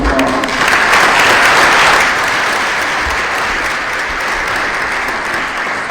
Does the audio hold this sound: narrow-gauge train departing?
no